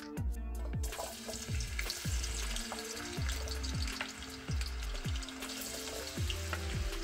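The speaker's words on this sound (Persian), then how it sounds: "حالا من سیب زمینی ها رو بهش اضافه میکنم و میذارم تا سیب زمینی ها کمی سرخ بشه" Potatoes fry in hot oil with a steady, crackling sizzle, under a series of low repeated knocks and clatters from nearby kitchen activity.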